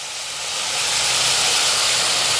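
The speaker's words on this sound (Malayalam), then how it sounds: "അതിന് വേണ്ടി നമുക്ക് തേങ്ങ അങ്ങ് വറുത്തേക്കാം" Grated coconut dry-roasts in a hot pan, a close, steady sizzling hiss that swells over the first second and then holds evenly, with no voices.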